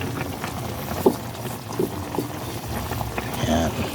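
Pot of soup with moringa leaves simmering on the stove, a low, steady bubbling with a few soft pops and light liquid patter throughout, faint and close, with no talking.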